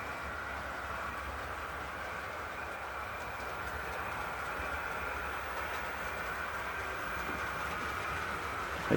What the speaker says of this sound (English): HST is just coming by